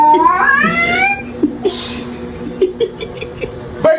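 Cat meows played through a loudspeaker as a prank, a series of rising and falling cries at the start, then a few shorter, softer mews with quiet talk in the background.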